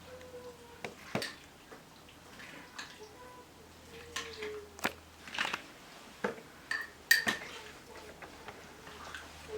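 A spoon scrapes and clinks against a bowl while a food remedy is stirred together, giving irregular sharp taps and soft wet mixing sounds at close range, fairly quiet, with no talk over them.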